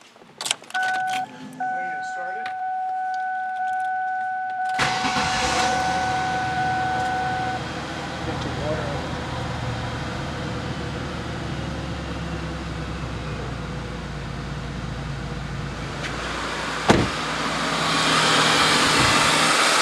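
A Ford Taurus 3.0 OHV Vulcan V6 with new spark plugs and wires cranks and starts, then settles into a steady, low idle for many seconds, with a rising rev toward the end and a few clicks early on.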